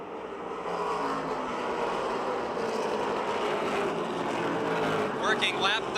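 Stock cars racing at Motordrome Speedway, a steady roar of engines filling the whole stretch with a passing surge near the end, under an announcer talking throughout.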